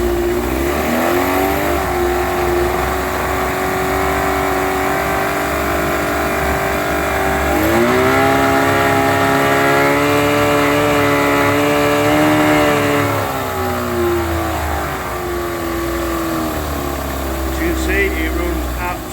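A Yamaha 20HP outboard engine runs steadily in gear, a loud continuous drone with a brief rise in pitch and volume partway through before settling back to an even idle-to-mid throttle hum.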